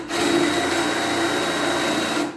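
A power drill bores into a base board for floor units, giving a loud, steady, close motor whine that runs unbroken for about two seconds and then stops.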